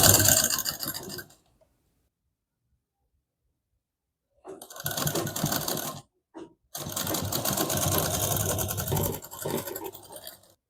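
A sewing machine stitches a size 32 double katori blouse in bursts: a loud run of whirring stitches, a long silent pause, then two more sustained runs split by a brief stop and a short tap.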